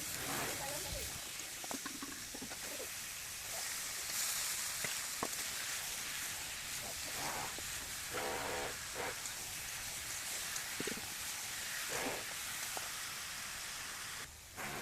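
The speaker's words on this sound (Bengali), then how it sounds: "আলুগুলা দিয়ে হচ্ছে আমি ভালো করে আবার এটা কষায় নিব" Potatoes sautéing with spices in a pan give a steady close sizzling hiss with scattered scraping and stirring knocks, continuous throughout and heard without talk.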